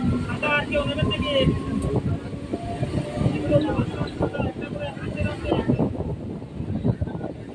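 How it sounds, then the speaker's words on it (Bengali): A local train on the Bally–Burdwan chord line pulls out of Janai Road station, heard from on board as a rumbling, rhythmic clatter of wheels with a short horn, while a voice talks over it. "ট্রেন এখন জনায় রোড স্টেশন ছেড়ে বেরিয়ে যাচ্ছে"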